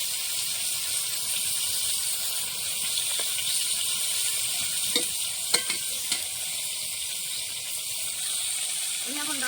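A rohu fish head frying in oil, producing a continuous bright sizzle with a few sharper pops and spatters partway through, steady and close with no speech.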